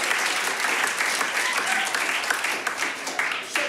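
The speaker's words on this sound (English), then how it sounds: "Everyone give Cassidy a round of applause" An audience at a live music show in Portland gives a sustained burst of applause, dense and continuous clapping throughout with some cheering mixed in.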